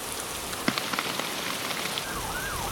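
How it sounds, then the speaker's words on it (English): Steady rain falls on a UK day, a dense, even hiss with a scattering of sharper drops, and a faint wavering tone rises late in the sound. "the rain has decided to set in the UK today"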